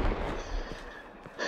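Fireworks set off in and around a gas station: a steady crackling, popping barrage with scattered bursts, moderately distant and fairly even in loudness, with no speech.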